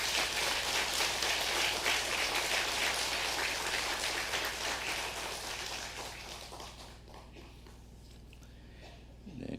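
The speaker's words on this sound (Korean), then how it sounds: "강창주 목사님께 김창주 목사님께 감사와 감사의 뜻을 담아서 함께 박수를 보내면 좋겠습니다." Sustained applause from a church congregation during a Sunday worship service, dense and steady, gradually fading out toward the end, with a brief sound at the very close.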